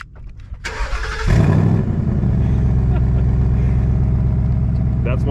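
Ford Mustang GT V8 warm start: a short cranking whir, then the engine catches with a loud flare and settles into a deep, steady, rumbling idle close by.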